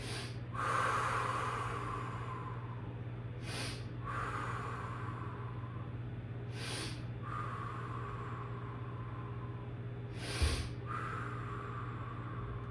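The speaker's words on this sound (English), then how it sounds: "So we're gonna sniff little inhales and long exhales." Quick sharp nasal sniffs during yoga breathing come in clusters of short inhales every few seconds, each followed by a long soft exhale, close and breathy over a steady low hum.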